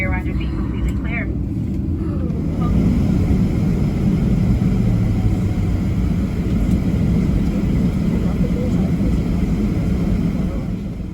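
Steady low roar of a Southwest Airlines Boeing 737-700 cabin in flight between Bozeman and Denver, a loud continuous broadband drone that swells slightly after the first few seconds, with a voice talking faintly over it early on.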